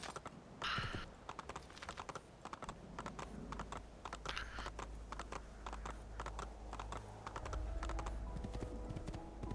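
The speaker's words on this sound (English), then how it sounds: "Horses." Horse hooves clopping in the video game Assassin's Creed 2, a busy stream of quick hoof clicks at moderate distance over a low background drone.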